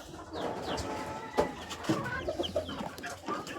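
Two newly hatched turkey chicks peep in a rural Philippine setting, giving faint, high chirps scattered over a busy background of other fowl clucking and farmyard ambience.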